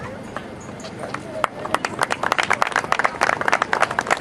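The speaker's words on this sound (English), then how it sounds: "Once again, a round of applause for all our awardees today." Applause for awardees at an amateur boxing and kickboxing invitational, starting thin and scattered and then building into brisk, close clapping from a modest crowd over the final few seconds.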